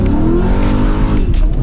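A high-mileage 218k-mile Mercedes V8 AMG driving with a loud, steady engine drone and harmonic exhaust note that shifts slightly in pitch, with brief tyre noise, close and continuous throughout.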